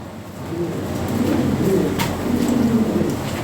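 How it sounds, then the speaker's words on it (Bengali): Several pairs of fancy pigeons coo in repeated soft, low calls, steady and fairly close, with faint bird rustling around them. "3 পেয়ার কবুতর আছে, 1 পেয়ার আছে নিউ অ্যাডাল্ট"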